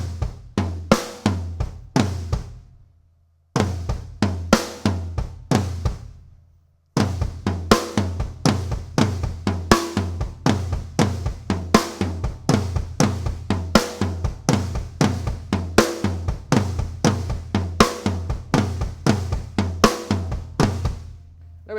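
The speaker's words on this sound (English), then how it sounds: "So you're going to start off with your left hand on the high tom, right hand down on the floor tom." Drum pattern of flams and kicks on high and floor toms, booming repeated hits in a driving rhythm, close and loud with two short breaks, no talk.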